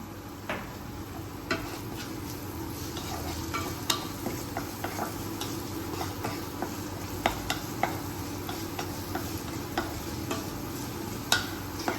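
Fried rice being stirred in a pan with a steady sizzle, scraped by a spatula in repeated clicks and taps spread across the whole stretch, close and continuous with no talk.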